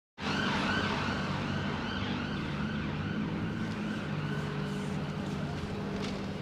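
An ambulance siren wails close by and loud in Edinburgh's New Town, Scotland, steady and continuous over traffic noise, starting abruptly and holding throughout.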